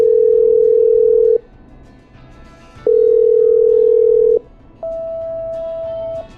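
Telephone ringback tone heard during a call in the Killer Frequency video game: two long steady electronic tone bursts with a pause between them, then a higher tone that holds, loud and clear with no talking.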